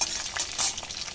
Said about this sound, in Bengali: একটু ভাজা ভাজা করে নেব।